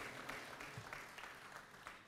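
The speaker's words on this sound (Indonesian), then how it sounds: "Tepuk tangan sekali lagi untuk Dewan Pertimbangan Partai Demokrat." Applause from an audience at a Democratic Party announcement event honoring its advisory council, a steady mid-level patter of clapping hands running throughout with no talk over it.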